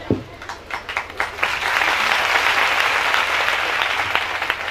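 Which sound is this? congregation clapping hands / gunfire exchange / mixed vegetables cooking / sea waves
congregation clapping hands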